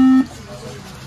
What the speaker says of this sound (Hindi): बीप ही कर रही है मशीन।